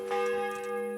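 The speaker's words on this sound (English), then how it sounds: "Right, it's midnight. The bells are going." Church bells ring at midnight in the video game Kingdom Come Deliverance, a sustained, resonant tolling with long ringing overtones and one fresh strike near the start.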